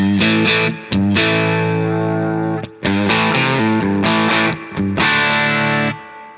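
Distorted Strat-style electric guitar through a Shinos Rocket Combo amp, gain at noon, playing sustained thick chords and short phrases with brief pauses between, loud and saturated with gain.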